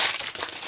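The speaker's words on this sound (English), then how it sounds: "I'm going to use my big tape." Close, busy crinkling and rustling from a big 2.5-inch roll of packing tape being handled at a crafting table, a short dense burst with no talk.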